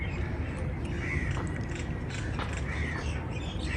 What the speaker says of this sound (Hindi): कौवे क्यों हो रहे हैं?